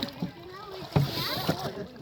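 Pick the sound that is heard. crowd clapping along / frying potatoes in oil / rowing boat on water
rowing boat on water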